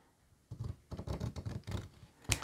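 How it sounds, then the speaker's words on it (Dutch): Large scissors snip excess off a narrow paper strip wrapped around a paperclip, a run of soft, close crunchy cuts and rustles ending in one sharper snip, with no talking. "Het te veel knip ik er gewoon vanaf."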